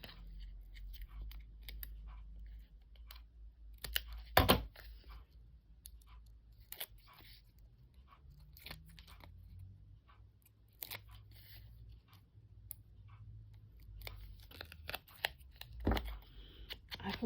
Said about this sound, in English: I'm just trimming off the two sides here